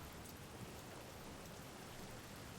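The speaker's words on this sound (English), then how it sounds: "you all hear silence now as the rain bashes into what is now the top of the carriage" Heavy rain pounds steadily on the roof of a carriage lying on its side, making a dense, unbroken wash of noise without pauses.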